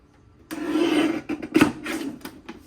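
A paper trimmer slicing through cardstock while making cards, a rough scraping rasp with a couple of louder strokes, close and alone, no talk.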